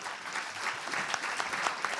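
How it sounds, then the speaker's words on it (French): Audience applause for two speakers at a French regional planning conference on the Seine Valley, steady clapping from a room full of people filling the whole moment without pause. "Merci Fouad Aouada, Simon Dumoulin, on peut vous applaudir."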